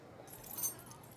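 Keys jangle in a scene from the TV show Teen Wolf, a short faint metallic rattle that peaks briefly partway through over a quiet background.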